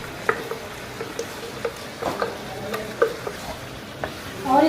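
Browned onion paste is stirred into mutton frying for aloo gosht, a soft steady sizzle under intermittent scraping and tapping of a spoon against the pot, with a louder clatter at the close.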